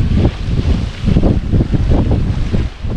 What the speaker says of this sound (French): Par moments, le vent refuse.